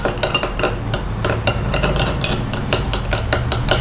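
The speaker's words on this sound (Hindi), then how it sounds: "इन दोनों को आपने अच्छी तरह करना है मिक्स" A spoon mixing mashed banana paste into rose water in a bowl, giving rapid, close clinks and scrapes in a steady stirring rhythm, with no talk.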